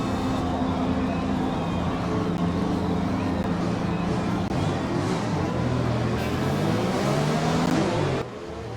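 Several Formula 1 cars in the F1 2020 racing game pull away from a race start, their engines revving and rising in pitch together as a dense, loud roar, with a faint voice briefly audible.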